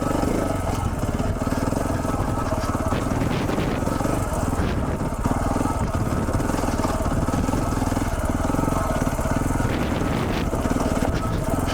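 KTM 690 Enduro motorcycle riding hard off-road on a mountain trail, its single-cylinder engine roaring steadily and loud throughout, with continuous rough terrain noise and no clear pauses.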